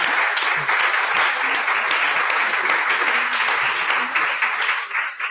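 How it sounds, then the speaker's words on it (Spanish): Audience at a talk on Tutankhamun and archaeology breaking into warm applause, a sustained, fairly close burst of many hands clapping that thins slightly near the end. "como aquí no escatimamos en aplausos, pues te damos una por todo lo que has conseguido"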